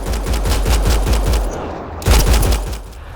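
Rapid automatic gunfire in the sci-fi shooter Mass Effect Andromeda, loud bursts of fast repeating shots with a brief pause before another heavy burst, no talking.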